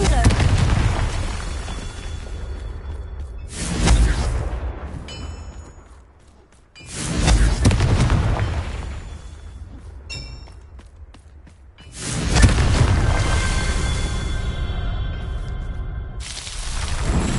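Three loud fiery blasts from the Confringo spell in Hogwarts Legacy burst at intervals, each a sharp boom that swells into a roaring rumble and slowly fades before the next. Brief spoken incantations occur between the blasts.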